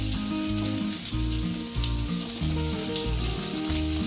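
Shallots and garlic sizzle loudly in hot oil for a sardine curry, a close, continuous hissing crackle over steady background music tones.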